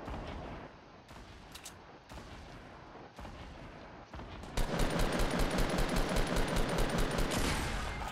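Gunfire in a Fortnite match: spaced, sharp shots at first, then a dense, loud burst of rapid repeated reports that continues to the end.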